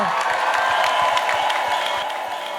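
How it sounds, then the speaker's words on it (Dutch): An audience at a final show applauds for Tije, a steady wash of clapping and light cheering that holds evenly throughout, slowly easing near the end. "Groot applaus voor Tije."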